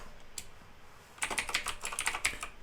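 Keywords are typed on a computer keyboard, starting with a single keystroke and then a quick close run of clicky key presses at a soft, even level.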